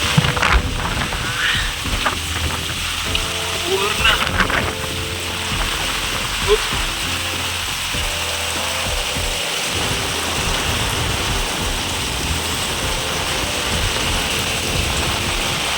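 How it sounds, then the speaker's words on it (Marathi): Heavy monsoon rain with strong wind in a coastal Konkan village near the sea, a loud continuous roar of rain and gusts with occasional rumbles and buffeting, close throughout. "तिकडून पाऊस येतोय आता"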